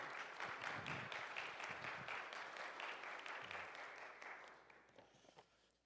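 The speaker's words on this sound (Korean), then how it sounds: "우리 함께 나오실 때 환영의 박수하면서 우리 함께 환영하도록 하겠습니다" A congregation claps in welcome as a pastor comes forward at a church service, a dense, steady wash of many hands that stays quiet throughout and thins out toward the end.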